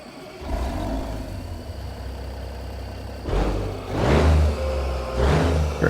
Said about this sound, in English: let's get the engine on.